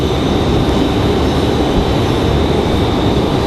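An airplane arriving at Raleigh-Durham International Airport gives a steady, loud engine roar with a faint high whine, unbroken throughout the short stretch.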